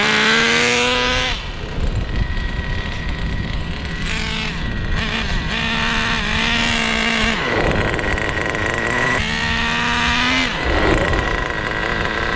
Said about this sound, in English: We're going to do a short lap and we're going to make sure that the wheels lock up.